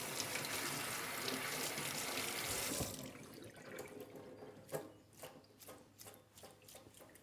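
Hot water runs and splashes over a greasy HRV core being washed, a loud steady faucet rush for about three seconds, then quieter dripping and intermittent sloshing with a few brief scrubbing bursts, no talk.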